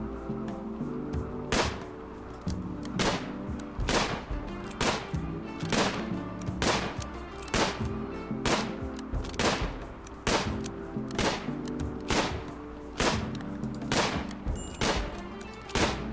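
A rifle fires in a video game, roughly fifteen sharp, evenly spaced cracks over about sixteen seconds, each shot distinct and fairly close, with no talking.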